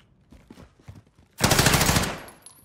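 A burst of automatic gunfire from Call of Duty Warzone, loud and sustained for about half a second, following a stretch of quieter game sounds and soft thuds.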